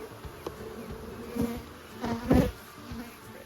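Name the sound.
honey bees buzzing around hive entrances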